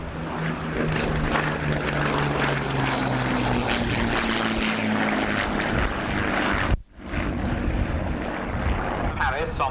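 A propeller aircraft flies a display at an RAF Abingdon airshow in 1990, its engines droning loud and steady with a pitch that slowly slides, heard near and continuous with a brief dropout before the drone returns.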